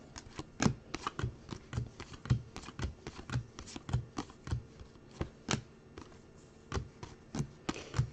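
Chrome baseball cards from freshly opened packs handled and shuffled at close range, a steady run of crisp clicks, flicks and slaps in irregular quick bursts, with no talk over them.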